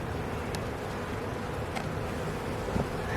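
Honeybees buzzing at an open, living hive in a bee yard: a dense, continuous drone of many insects close by, steady and even, with no voices.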